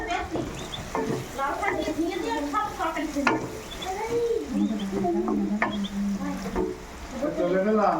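Onion and shrimp sauté with ginger, cumin and garlic paste under a soft frying hiss and occasional utensil scrapes, while voices talk over most of the stirring.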